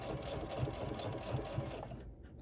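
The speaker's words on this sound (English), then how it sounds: "You're gonna sew" A sewing machine runs steadily, stitching straight across the gusset line of a spring tote bag, its fast even needle rhythm close and continuous before it slows and stops near the end. No one speaks.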